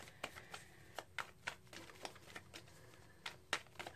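Tarot cards are shuffled quietly, with soft riffling and a string of light, irregular snaps and taps at close range and low volume.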